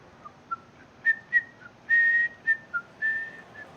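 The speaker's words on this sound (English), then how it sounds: "Ignore me whistling to myself." A man whistles a meandering tune to himself in short, separate phrases with brief pauses between them, close and fairly clear, with no talk alongside.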